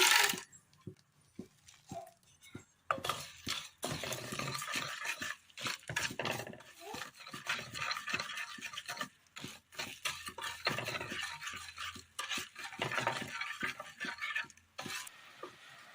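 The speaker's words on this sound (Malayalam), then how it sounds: "അങ്ങനെ നല്ലതുപോലെ തിളച്ച് പനം കൽക്കണ്ട ഉരുകി വന്നിട്ടുണ്ട്" Powdered palm sugar candy melts in boiling water in a pan on the stove, heard as soft bubbling and sizzling with repeated scraping and clinking of a spoon stirring against the pan, close and fairly quiet.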